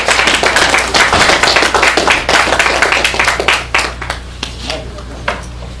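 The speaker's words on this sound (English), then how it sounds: "So give him a big round of applause, Brother Malik Zulu Shabazz." A lecture audience claps enthusiastically, a dense burst of applause that gradually thins out into scattered claps.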